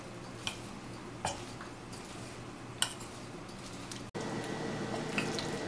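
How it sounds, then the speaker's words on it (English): Pakoda batter for Mumbai street-food Chinese pakoda is stirred together with red food colouring, giving soft wet squishing and scraping with a few sharper clinks against the bowl, close and steady, with no talking. "Mixing all the ingredients together,"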